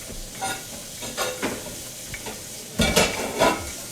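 Onions and vegetables stir-fried in a pan, a steady sizzle under repeated scraping and stirring strokes from a utensil, close and moderately loud, with no talking.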